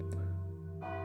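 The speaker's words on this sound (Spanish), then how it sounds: "resonaron las campanas que prometían tierra y libertad" Church bells ring in Dolores Hidalgo on a cold September night, giving a sustained resonant tone with a second stroke near the end and no voices.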